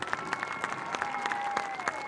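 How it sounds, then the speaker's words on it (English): Audience applauding cheerleaders at a high school football game, steady clapping from a crowd for about two seconds with a sustained tone running underneath. "How about a round of applause for our cheerleaders?"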